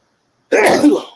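A single sharp sneeze, close and loud, bursting after a moment of silence and fading within about half a second.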